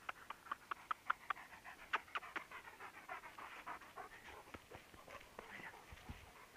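Hunting dog panting on a hunt in Poland, rapid rhythmic breaths close by and fairly quiet, with a few soft steps around it.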